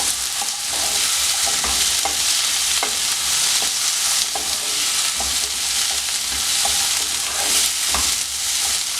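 Turmeric being stirred into a vegetable fry over a low flame: a steady, close sizzle with regular scraping strokes of the spoon against the pan, running continuously without any voices.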